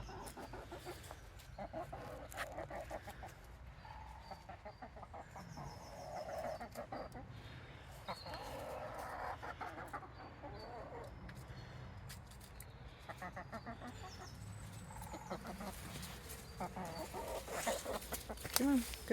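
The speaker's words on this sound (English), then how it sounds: "Here I am with the chickens again." Backyard chickens clucking and murmuring nearby, repeated soft calls throughout, with a person talking among them.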